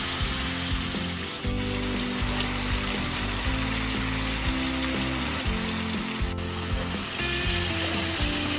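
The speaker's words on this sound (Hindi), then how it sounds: "थोड़ी देर कुकिंग ऑयल में फ्राई करें" Chicken sizzles and fries in hot cooking oil in a pan, a steady close crackling hiss with occasional bubbling pops, no voices.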